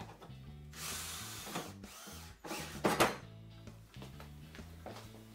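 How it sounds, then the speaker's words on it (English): A power drill bores a pilot hole into the oil pan of a Mercedes 722.9 transmission, a low whirring motor in short bursts with pauses and a louder grinding spike midway. "First thing is I'll drill a pilot hole."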